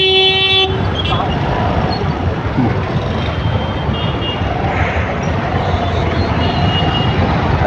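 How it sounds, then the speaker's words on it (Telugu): Busy road traffic on Nizampet Road in Hyderabad, with a short car horn toot at the start over a dense, loud, steady rumble of passing vehicles. "అయితే ఇక్కడ ట్రాఫిక్ ఉంది."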